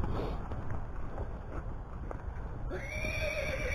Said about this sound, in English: There's some horses here from the new property.